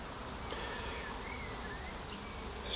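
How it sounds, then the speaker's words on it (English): Honeybees from a swarm hover around a tree and a makeshift hive stand of boxes outdoors, making a faint, steady, distant buzz against quiet background noise. "There's a few bees looking around for somewhere to go."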